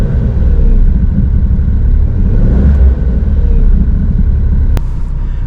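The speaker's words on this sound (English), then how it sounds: "you can't really hear the rumbling from that clutch area outside the car, but you can hear it inside" Low, steady rumble from the clutch area of a worn 2008 Smart Fortwo Pure 451, heard from inside the car as a continuous close drone with engine hum, no talking.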